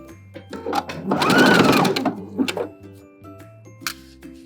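Domestic sewing machine stitching a gathered sweater-knit dress seam with backstitching, a close whirring burst that rises and falls in short runs and stops, with quiet pauses between.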